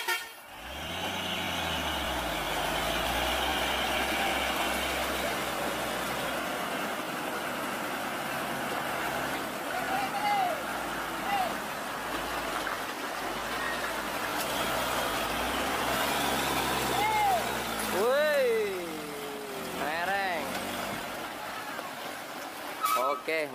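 A heavy Fuso truck engine drones and strains steadily for a long stretch while towing with a sling, with people talking nearby and short horn-like toots near the end.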